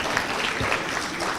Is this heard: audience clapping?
yes